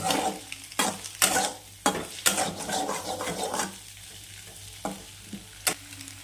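An egg roasting in a pan for egg rice is stirred with a utensil, giving close, sharp scrapes and clinks at an irregular pace over a soft, steady sizzle, with no talking.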